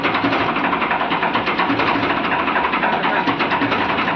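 A Farmtrac tractor fitted with power steering runs at steady revs, its engine giving a loud, continuous, even drone throughout with no voices.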